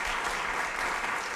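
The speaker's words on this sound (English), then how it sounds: "Give him a big round of applause." A short burst of steady, dense clapping comes from a jazz concert audience honoring a musician at a Latin jazz show during a brass conference.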